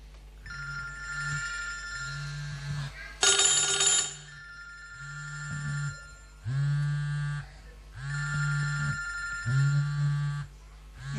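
A mobile phone rings with a repeating electronic ringtone in several bursts of about a second each. A brief louder noisy burst interrupts it early on. No one speaks.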